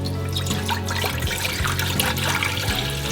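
White vinegar of 5% acidity pours steadily into a cooking pot, a continuous close liquid splash and gurgle running without pause.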